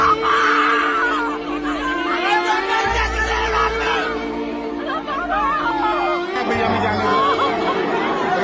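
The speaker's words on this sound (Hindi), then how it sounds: "लोग चीख रहे हैं, चिल्ला रहे हैं, बचाने की गुहार लगा रहे हैं" A dense crowd at the Maha Kumbh gathering screams and shouts, crying out for rescue. The dense, loud, continuous chatter and frantic yelling swell and overlap throughout.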